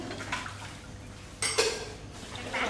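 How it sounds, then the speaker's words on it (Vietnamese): Soaked sticky rice being stirred in a cooking pot, giving wet clinks and scraping from a utensil with a louder knock partway through, over faint kitchen background. "Giờ mình quậy đều lên."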